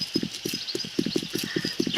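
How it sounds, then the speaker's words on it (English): Horses clip-clop in the video game 7 Days To Die, a quiet, quick run of regular hoof knocks repeating steadily over a soft background. "Hooray, horses."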